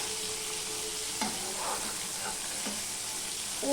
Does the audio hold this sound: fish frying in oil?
yes